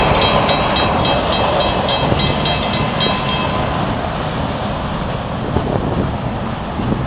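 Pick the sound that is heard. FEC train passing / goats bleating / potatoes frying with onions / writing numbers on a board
FEC train passing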